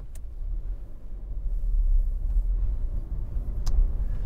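A car pulls away during a driving lesson, its low engine and road rumble building steadily and staying fairly close, with no talk over it.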